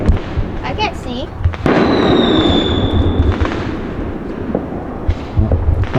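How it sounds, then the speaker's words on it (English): Independence Day fireworks crackle and boom near and far in the United States, a dense stretch of bursts with a whistling rocket, while people talk over them. "Alright guys, we're gonna do the rest of our little fireworks."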